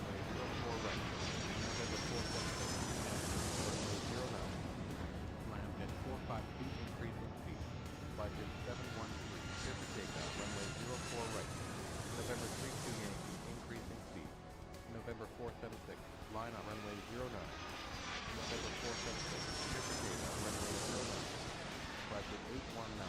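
Simulated jet and propeller airliners taxi and take off in the air traffic control game Airport Madness 3, engines droning steadily and swelling in broad whooshing passes, mixed under continuous talk.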